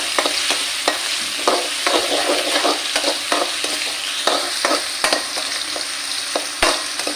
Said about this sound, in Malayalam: വെളുത്തുള്ളി, പച്ചമുളക് നല്ലൊന്നും വഴന്നു വരണം.